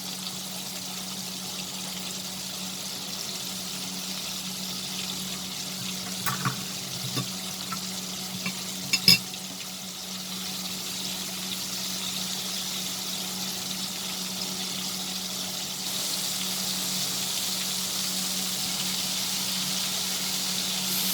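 Prawns fry in a pan for a crispy prawn dish, a steady soft sizzle with a constant low hum and a couple of brief clinks partway through.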